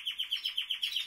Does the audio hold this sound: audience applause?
no